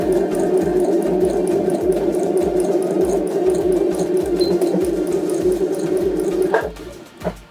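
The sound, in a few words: sewing machine stitching a round placemat, backstitching to reinforce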